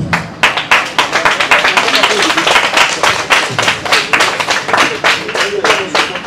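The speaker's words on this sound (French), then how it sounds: "j'invite l'ensemble à applaudir" An audience at the final of a dictation competition claps loudly and continuously, with dense rapid clapping from a crowd close by and faint voices mixed in.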